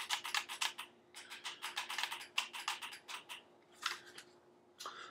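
Plastic kickstand on a NexiGo Gripcon Hall Effect Switch controller clicking, a dense run of quick, sharp snaps in bursts followed by a few sparse ones near the end, close and moderately loud with no talking.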